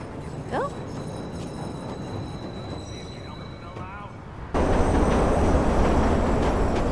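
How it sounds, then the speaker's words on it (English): A train pulls into a station in the Watch Dogs video game: after a few seconds of quieter ambience with faint chirps, a loud, steady rumbling roar starts abruptly and fills the rest of the clip. "Southbound train, arriving shortly."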